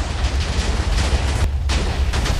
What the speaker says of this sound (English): There was TNT flying everywhere, exploding every second